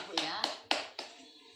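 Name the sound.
group clapping hands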